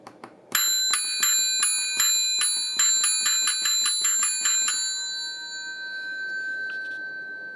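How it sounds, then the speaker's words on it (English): A rotary phone bell rings in rapid repeated bursts with bright metallic overtones, close and loud, then stops, leaving a faint lingering hum. "so that is the thing ringing the bell"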